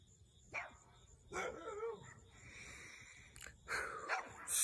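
Several dogs bark in a few separate bursts, moderately close, with quieter gaps in between and no talking.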